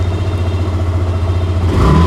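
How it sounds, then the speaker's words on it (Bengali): A used Yamaha Fazer V2 motorcycle idles just after starting, a close, loud, smooth low drone that swells slightly near the end as the throttle lifts. "এখন স্টার্ট দিয়ে আপনাদেরকে দেখাবো। ভিউয়ার্স দেখতে পাচ্ছেন বাইকের কিন্তু সাউন্ডটা একেবারে স্মুথ কন্ডিশনে রয়েছে"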